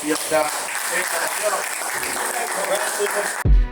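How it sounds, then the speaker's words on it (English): A studio audience of HBCU students gives a round of applause at a hip hop podcast taping: a dense, lively clatter of clapping with mixed voices, cutting off abruptly near the end. "another round of applause"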